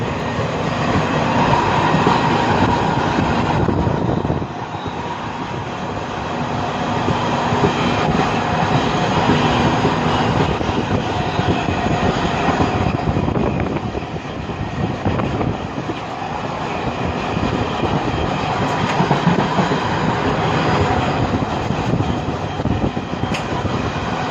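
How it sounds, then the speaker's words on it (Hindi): The Garib Rath Express on the Indore to Nizamuddin route runs at full speed, heard from onboard as a loud, steady rumble of wheels and carriage noise with faint rhythmic clacking. "ट्रेन अब गति पकड़ चुकी है और अपनी फुल रफ्तार को दिखाती हुई"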